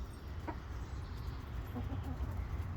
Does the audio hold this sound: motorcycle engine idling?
no